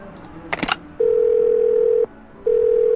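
Steady telephone dial tone heard while placing a call in the video game Do Not Feed The Monkeys, a sustained hum broken by one short gap, preceded by a brief clatter.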